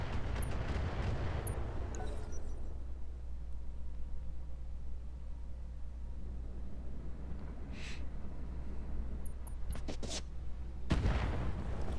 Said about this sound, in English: Oh, they're shooting at the base already.